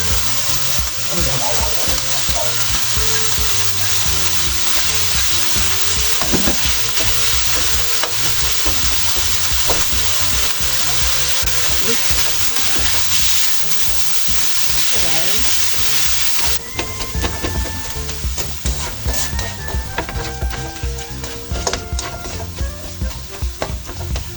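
Sliced red and white onion frying with leftover pork sisig in a pan, a steady loud sizzle with stirring and scraping throughout, easing slightly near the end.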